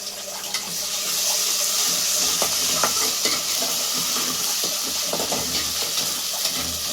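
Ginger garlic paste frying in oil with fresh curry leaves for a ridge gourd and prawn curry, giving a steady broadband sizzle with occasional stirring clicks and scrapes, close and continuous.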